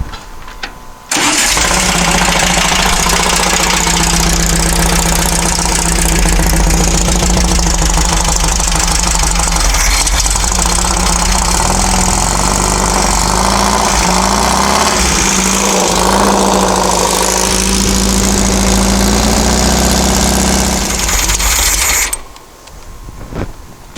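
A dune buggy engine roars steadily at around 3,000 RPM after a brief quiet start, holding a loud, even drone with a rough mechanical rattle before dropping off near the end.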